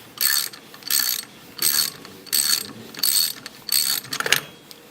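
A ratchet on a spark plug socket removes an engine's spark plug, giving six quick bursts of sharp clicking at an even rhythm, close and loud, with a few metallic ticks at the end.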